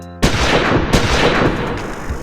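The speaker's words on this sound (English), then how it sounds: "Jack and Gans exchange shots." Two loud, sharp gunshots from an exchange of fire in a 1982 action film ring out close by, about a second apart, each followed by a long echoing rumble.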